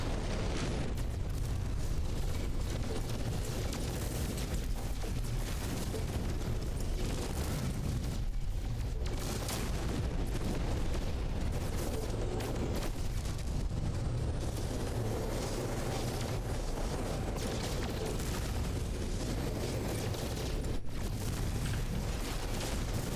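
Dense barrage of missile explosions and booms pounds a small solar ship in No Man's Sky space combat, a continuous loud roar of blasts with short dips between volleys and no talk.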